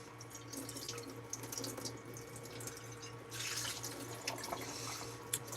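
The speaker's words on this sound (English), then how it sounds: "No, I'm just doing dishes right now, man." Tap water runs steadily into a sink while dishes are washed, with soft splashing and occasional clinks, close by and fairly quiet, and no talking.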